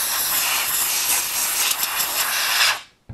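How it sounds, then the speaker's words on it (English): Compressed air blasting from a nozzle to dry a cleaned infrared remote control, a loud steady close hiss lasting almost three seconds before cutting off abruptly. "get either canned compressed air, or if you have an air compressor, dry it off with that."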